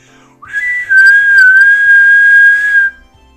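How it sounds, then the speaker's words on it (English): A teacher's whistle blown in one long, sustained, loud tone of about two and a half seconds, steady pitch with a slight wobble, cutting off sharply, no voices. "At that moment, the teacher's whistle sounded."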